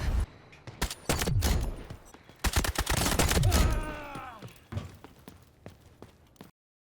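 G3 rifle gunfire in the shooter game Delta Force: rapid bursts of loud, sharp shots over several seconds, with a whining, sweeping tone in the middle and a few scattered single shots before it fades out.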